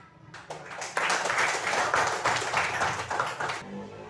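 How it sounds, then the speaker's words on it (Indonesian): Classroom applause, a steady burst of many hands clapping that swells quickly, holds for a few seconds and then stops, with a faint voice underneath. "kita beri aplaus dulu"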